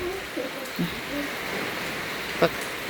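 Rain falling during a rural Thai Bun Khao Sak merit-making festival, a soft continuous hiss over which a voice talks, with a few faint clinks and one sharp tap.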